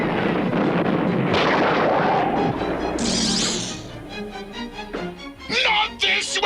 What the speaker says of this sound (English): Now, Bruticus, fire your disruptor!